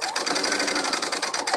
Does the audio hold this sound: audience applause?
no